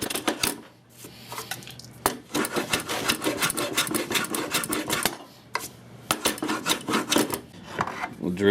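A hand rasp files a slight bevel onto a wooden piece for a router table fence, with repeated close scraping strokes in bursts, briefly pausing between runs.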